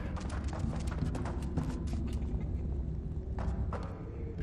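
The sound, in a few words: character movement sounds from the video game Never Alone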